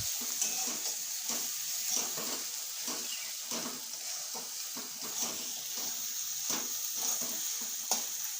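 Chopped tomatoes fry with already-browned garlic and onion for a goat liver dish: a soft, faint sizzle broken by regular stirring scrapes of a spatula against the pan.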